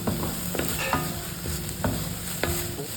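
Vegetables stirred in a covered pan while they cook on medium heat, a spoon scraping the bottom in short regular strokes over a low continuous sizzle, close and clear with no voices.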